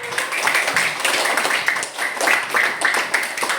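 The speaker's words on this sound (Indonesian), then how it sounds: "Tepuk tangan untuk Andi." Schoolchildren clapping together in an elementary school classroom, a continuous brisk patter of small hands that stays fairly loud throughout.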